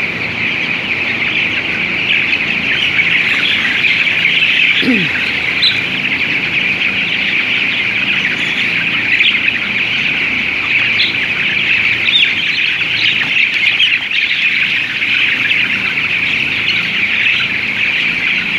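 Eighteen-day-old broiler chickens fill a tunnel building with a constant, dense chorus of high chirping and peeping, a steady flock murmur with occasional louder calls standing out.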